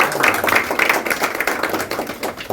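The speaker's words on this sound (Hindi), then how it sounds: "मनमोहन जी के लिए मैं चाहूँगी कि एक बार जोरदार आप तालियां हो जाए" A crowd applauds at the inauguration of the Colours of Spring 23 art exhibition in Mumbai, with steady, dense clapping at moderate loudness that holds for the whole moment and no talking over it.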